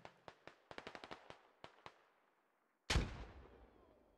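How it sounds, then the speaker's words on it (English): A grenade blows up in the military shooter Squad, one loud close blast with a long rumbling tail, coming after a string of sharp rifle shots. "Ooh, good grenade."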